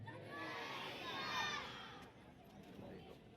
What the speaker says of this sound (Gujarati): આપ તાળીઓના ગડગડાટથી વધાવી લઈશું